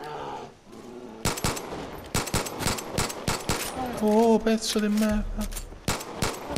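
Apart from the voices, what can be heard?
gunfire in the video game Far Cry 5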